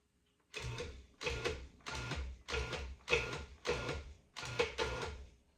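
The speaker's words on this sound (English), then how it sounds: "I'm going to let the food processor do the work." A food processor pulsing flour, sugar and salt for pie crust, seven short whirring bursts in a steady rhythm, each about half a second long with brief gaps between, close and alone.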